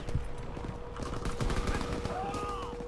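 Rapid bursts of tank-mounted machine gun fire in Call of Duty WW2, loud and close, with a rolling rattle that runs for about three seconds.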